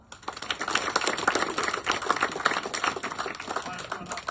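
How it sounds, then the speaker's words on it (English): An audience clapping for the golf captain at a junior Texas scramble competition, a steady patter of many hands close by, continuous for a few seconds. "Let's give him a big clap."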